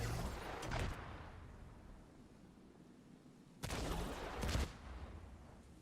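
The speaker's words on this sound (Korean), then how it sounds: "6렙짜리 포격 한 번만 쏴봐 주세요." A rogue artillery turret fires in the video game The Division 2, producing two loud, booming blasts a few seconds apart, each trailing into a rumbling decay.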